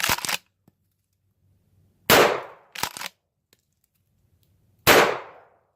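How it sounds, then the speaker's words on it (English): Three Aguila 12 gauge mini buckshot rounds fired from a shotgun outdoors, sharp loud blasts at uneven intervals, each with a short decaying echo, plus a faint click between shots. "We're gonna put a few rounds over that way just to show you the recoil impulse."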